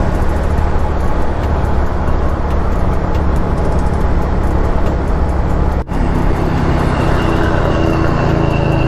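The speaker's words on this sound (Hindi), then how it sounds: "और अब आहिस्ता आहिस्ता ट्रैफिक भी बढ़ रहा है मरी एक्सप्रेसवे पे।" Steady road traffic on the Murree Expressway between Islamabad and Muzaffarabad, heard from a moving motorcycle as a continuous broadband rumble of passing cars and buses, with no talk and one brief dip partway through.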